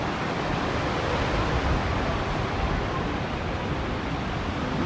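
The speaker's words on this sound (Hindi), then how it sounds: "ये वीडियो मैंने आप लोगों को पानी का शोर सुनाने के लिए बनाई है" Steady, loud rushing water roars without pause, a dense broadband wash like a fast river close by, with no voices.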